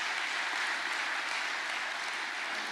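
Audience at a SADC welcome dinner in Durban applauding, a dense, even roar of many clapping hands that holds steady throughout with no talk.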